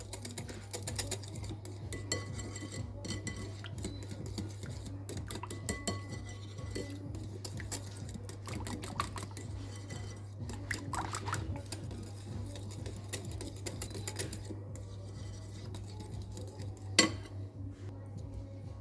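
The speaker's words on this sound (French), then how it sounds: "avec un petit coup de cuillère magique, je redonne une texture bien" A spoon working through ice cream to soften it, producing quiet, rapid scraping and clinking against a container over a constant low machine hum.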